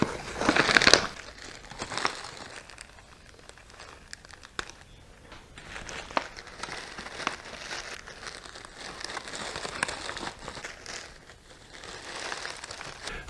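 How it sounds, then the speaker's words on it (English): A plastic freeze-dryer storage bag is cut and handled up close, giving soft crinkling and rustling with a few sharper crackles, brief louder handling at the start, then fainter intermittent crumpling. "cut off the zipper portion of it, place that in the other bag."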